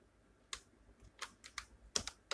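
Typing on a computer keyboard, a few clear key clicks and short bursts spaced irregularly, close and fairly quiet with no talking.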